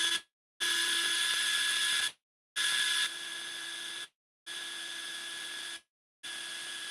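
A Ryobi cordless power drill whines in four separate bursts of roughly one to two seconds each, boring a couple of holes, with short silent gaps between the bursts. The sound is close and steady.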